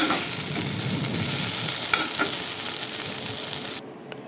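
Ladies finger (okra) for vendakkai poriyal sizzles steadily in a pan while being stirred, with a continuous close frying hiss, a few faint scraping knocks, and a sudden drop in level near the end.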